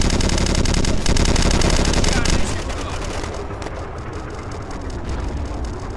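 Automatic gunfire in the online shooter game Red Crucible Firestorm, a loud continuous burst that cuts off after about two seconds and gives way to a lower, steady wash of game noise.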